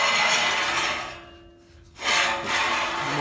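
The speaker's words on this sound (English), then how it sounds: "These slide up and down." Metal pieces of a tractor frame jig sliding along their rails, a steady scraping rub that drops off, pauses briefly, then resumes loudly, with no talking.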